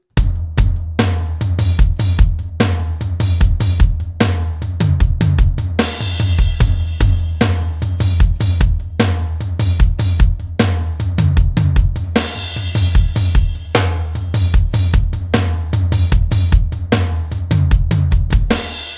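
A steady drum beat plays on and on with punchy kick and snare and crisp off-beat hi-hat strokes, played with the left stick, ticking between the main hits, loud and close.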